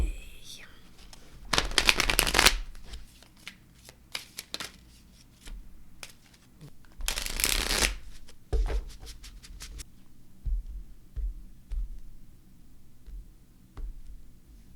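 A deck of oracle cards shuffled by hand in two bursts of riffling, close and crisp, separated by softer handling taps, rustles and quiet movements.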